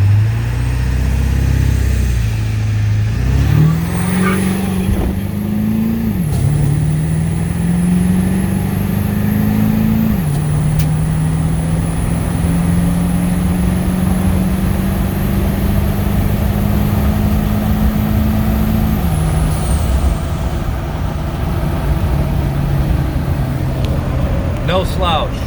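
A Ford 7.3 Power Stroke diesel truck accelerates with overdrive off, engine pitch climbing through several gear shifts while a high turbo whistle rises and holds, loud and close from inside the cab.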